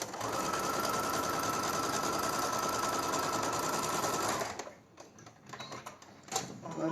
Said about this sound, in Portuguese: Esse aqui eu vou passar costura nas laterais do traço.